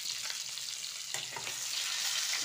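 Eggs fry in a pan, a steady close sizzle with a few scraping stirs, and nobody speaks.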